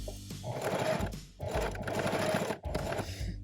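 A sewing machine bastes a notched collar, running in three close, steady bursts of fast stitching separated by brief pauses, with no talk.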